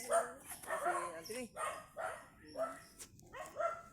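A dog barks repeatedly in short yapping bursts, faint and distant-sounding, roughly every half second.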